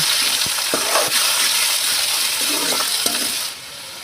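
Curry leaves and ginger garlic paste sautéing for dhaba-style chicken varuval, a loud continuous sizzle with several spoon scrapes and clinks against the pan before the hiss drops near the end.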